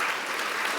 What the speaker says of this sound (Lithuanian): tai mes esam skolingi jiem aplodismentų